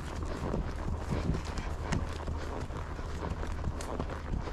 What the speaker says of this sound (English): Trotting.